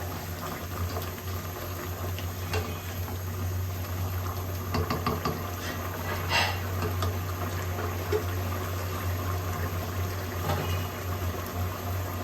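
A pot of water boils hard for biryani, giving a steady, loud bubbling and hissing that runs unbroken throughout with no voices.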